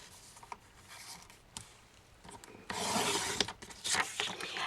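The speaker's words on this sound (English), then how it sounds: "I'm going to make my second cut at 6 inches" Scrapbook paper cut with a paper trimmer, a few soft scraping slides followed by a louder, longer rasping cut near the end, close and without any talk.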